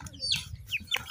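A chicken gives a few short, close clucks and chirpy calls in quick succession over a faint low background hum.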